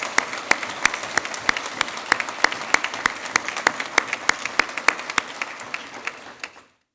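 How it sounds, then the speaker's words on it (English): An audience at a Denver small business awards event claps in sustained, dense applause with sharp individual hand claps, tapering off at the end. "please, round of applause for all the business owners, government, affiliates"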